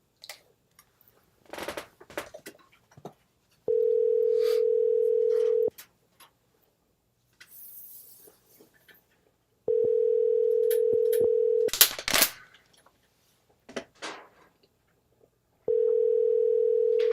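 A telephone dial tone sounds in three steady, identical bursts of about two seconds each while phone lines are being checked, separated by clicks, handling noises and keyboard-like tapping, with no talking.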